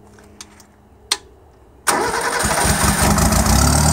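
A 1974 Satoh Elk tractor engine, choked and freshly wet-tested, gives a couple of short cranking bursts, then catches and runs on with a steady, loud, close idle.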